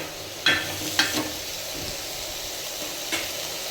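Soft sizzling of curry in a pan as salt is stirred in for a Kannada soppu saaru, with three or four sharp spoon scrapes standing out over a quiet, steady fry and no talking.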